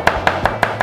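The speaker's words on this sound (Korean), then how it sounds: "우선 파를 자 다져 놓겠습니다" A knife mincing green onion on a cutting board, five sharp, evenly spaced chops heard up close and loud, with no talking.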